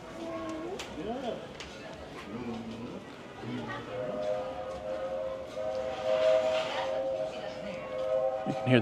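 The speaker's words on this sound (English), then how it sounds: "You can hear the train in the background." A train passing at Walt Disney World's Grand Floridian resort, its rumble and tonal whistle-like hoot sounding in the background beneath people talking, growing more prominent toward the end.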